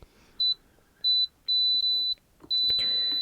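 A resin curing machine gives four electronic beeps, three short and one long, at a steady high pitch, with faint handling noise beneath.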